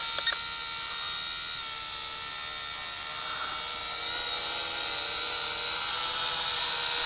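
Syma X5SW quadcopter flying over a field, its small motors giving a continuous high-pitched whine with a steady buzzing drone that holds level throughout, close and fairly loud with no talking.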